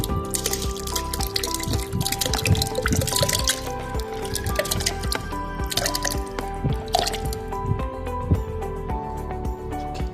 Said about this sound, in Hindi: अब हम डालेंगे दही।